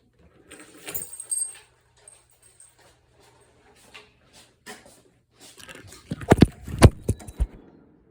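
A set of keys jangles in a burst of bright metallic clinks near the end, following scattered faint handling noises in a quiet room.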